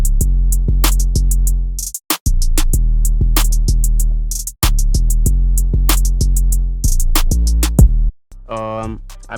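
Deep, booming 808 bass notes in an R&B beat built from a pitched vintage sample, hitting in a steady repeating pattern with brief drops to silence, loud and upfront alongside the sampled melody and hi-hats.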